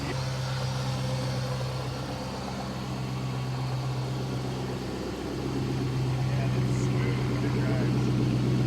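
A Chrysler 300 SRT8 Hemi V8 idles smoothly and steadily with a low, even hum and no ticking, running throughout at close range beneath faint background noise.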